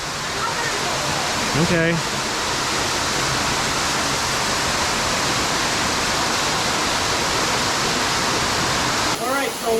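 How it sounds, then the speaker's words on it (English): Waterfall roaring inside Circle X Grotto, a loud, constant rushing wash of water filling the space, with a voice speaking briefly over it. "As you can see, it's quite loud in here. And the waterfall is flowing quite well today."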